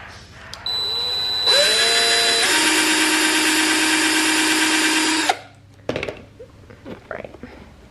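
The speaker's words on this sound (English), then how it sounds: "this is when it's best to use a drill" A power drill whines at high speed for a few seconds, drilling a lace hole in an Air Force 1 sneaker, then cuts off, followed by a few light knocks and handling noises.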